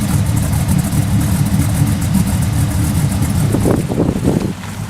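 An LS-swapped Camaro with a straight-pipe setup and no exhaust revs loud and close, its raw engine roar rising and falling over a steady rumble.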